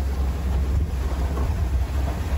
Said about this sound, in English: A lot of gusts coming off the mainland though